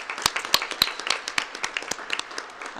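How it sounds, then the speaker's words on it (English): A small city council audience gives a brief round of applause for a newly appointed director, with distinct individual claps standing out in an uneven, sparse rhythm that stays moderately close throughout. "let's give him a round of applause"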